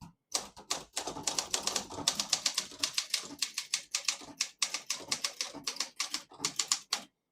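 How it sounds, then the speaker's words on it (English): Someone types a sentence on a 1970 Olympia SM9 portable typewriter in mint condition. Crisp, close keystrokes clack in quick bursts with brief pauses, loud and clear with no talk. "I'll type a sentence on this next line."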